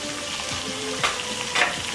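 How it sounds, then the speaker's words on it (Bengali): Spice paste for a chicken roast being stirred and fried in a pan: continuous close sizzling with two brief scraping strokes of the spoon, no voices. "এবার আমরা সম্পূর্ণ মশলাটাকে ভালোভাবে নেড়েচেড়ে কষিয়ে নিব।"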